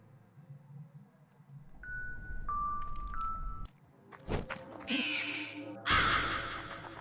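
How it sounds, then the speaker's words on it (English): A crow caws in the video game LISA: The Definitive, sharp cries rising over a low game ambience, followed by harsh noise bursts and rattling effects, with no talking. "That poor crow."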